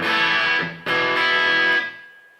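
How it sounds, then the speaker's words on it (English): A distorted electric guitar through a Boss Metal Zone pedal into an amp rings out two sustained, buzzing notes, the second struck sharply and held before fading out. "Maybe I'll put a bit of distortion from the metal zone, so it can just, add something to the amp."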